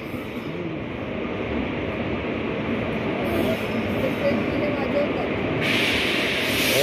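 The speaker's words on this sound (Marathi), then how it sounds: "क्रॉसिंग असते ना, ही मालगाडी आली असेल ना." Goods train rolling past a railway crossing on the Konkan route, a steady broad rumble and hiss of wagons at moderate distance running the full length, with a brighter hissing layer rising near the end.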